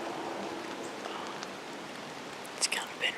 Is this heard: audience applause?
no